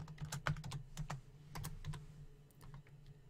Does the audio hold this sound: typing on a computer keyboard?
yes